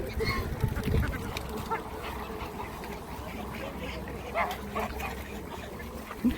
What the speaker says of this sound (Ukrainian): Бачите, лебеді, і гуси, і качки.